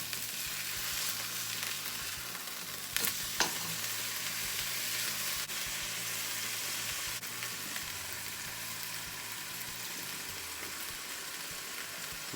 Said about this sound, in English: All right, let's flip our patty.